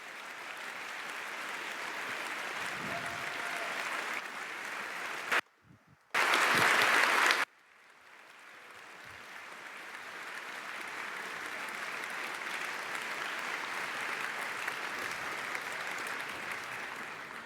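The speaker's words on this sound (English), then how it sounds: "So please clap a lot if you have liked this talk." An audience gives long, dense, steady applause after a conference talk, filling the hall throughout apart from a brief cut in the middle.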